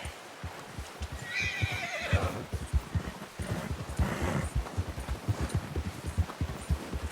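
A horse in Red Dead Redemption 2 whinnies in a rising, shaky call over steady clip-clop hooves, followed by a second softer neigh, all fairly close.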